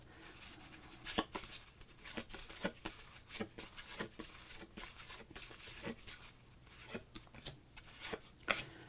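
1990 Fleer baseball trading cards handled from a pack, soft, close, irregular flicks and taps of shuffled card stock, quiet and without talk.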